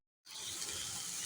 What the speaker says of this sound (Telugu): కొంచెం వాటర్ వేస్తున్నాను. ఈ కూరలో